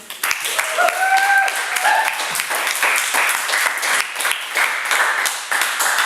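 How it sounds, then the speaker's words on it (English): An audience at a lounge night applauds a reader, dense clapping with a couple of whistles near the start, steady throughout and fairly close. "we just gave Ben a round of applause for the reading"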